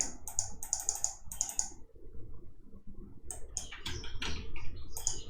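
Mouse clicks during voxel modelling in VoxEdit: a run of quick, sharp clicks early on, then a pause and another cluster of clicks near the end, close and clear with no talking.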